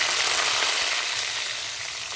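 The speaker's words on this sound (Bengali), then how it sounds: "এবার আমি দিয়ে দিচ্ছি কালো জিরা ফোড়ন দিয়ে দিচ্ছি। তেজপাতা ফোড়ন দিয়ে দিলাম।" Black cumin and bay leaf sizzle hard in hot oil, a loud, steady close-up frying hiss that fades slightly and carries on without a break.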